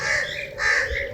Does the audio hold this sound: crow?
yes